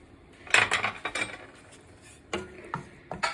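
Potatoes being added to a soup pot for potato and green bean soup, with a few sharp close clatters and knocks against the pot, separated by short quiet gaps.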